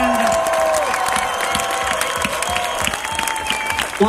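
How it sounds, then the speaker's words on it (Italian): A crowd of fans in Tavullia applauds and cheers loudly for motorcycle racer Valentino Rossi, with continuous clapping, whistles and shouts, and some voices calling out over the din. "un grande applauso e un incitamento al weekend"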